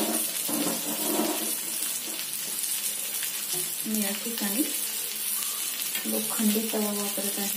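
Surmai fish pieces spread on an iron tawa over a very low flame sizzle and fry steadily, with a continuous hiss that carries occasional soft clatter and wet bubbling and never lets up.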